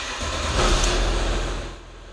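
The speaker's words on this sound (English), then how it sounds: "Start the vehicle engine again." A car engine runs up during an automatic transmission oil service with a gear cooler machine, swelling to a brief rev and then settling toward a steadier idle, close and loud.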